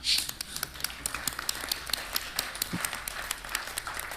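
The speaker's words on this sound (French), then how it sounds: "je vais vous demander de l'applaudir a priori, s'il vous plaît" An audience at a gathering of digital mediators and advisers claps, first with a fuller burst and then with scattered, distinct hand claps that fade to light, uneven applause. It sounds fairly faint and a little distant.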